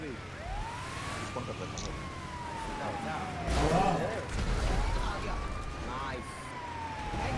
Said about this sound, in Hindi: एम्बुलेंस आ गई भाई, हट जाओ अब कोई नहीं मारेगा।